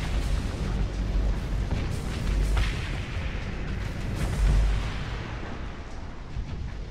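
Torpedo fire and explosions in the space combat game Starsector, a steady dense rumble of booming blasts and bursts that swells at moments without pause.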